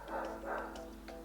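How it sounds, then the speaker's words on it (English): A neighbor's dog barks several times in quick succession, sharp yaps at moderate distance with a brief pause before a final bark. "That is my neighbor's dog, and it is crazy."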